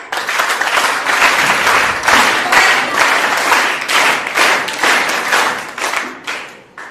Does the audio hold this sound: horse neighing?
no